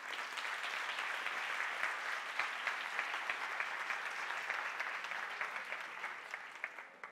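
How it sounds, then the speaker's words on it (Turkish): An audience at a youth talk on photography breaks into steady, dense applause, many hands clapping together at moderate distance for several seconds. "Hadi bir alkış olsun."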